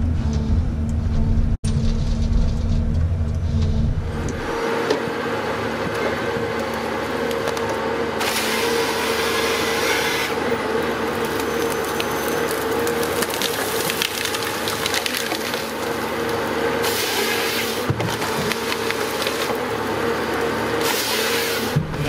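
Logset 12H GTE hybrid forest harvester engine running at steady, even revs during clear-felling, a continuous close mechanical drone with light woody crackle over it and no talk.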